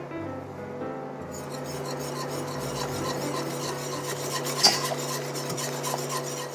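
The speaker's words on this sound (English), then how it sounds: "I'm going to keep stirring it and make sure" A spoon scrapes and rubs steadily around a pot of hot chocolate with cocoa, sugar and a cinnamon stick over low heat, a continuous close rasp with one brief louder clink near the end.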